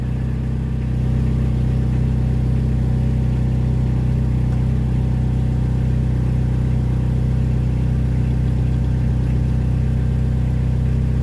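An old barn-find car engine with a holed exhaust runs at a steady idle, a loud continuous droning rumble close by with no voices over it.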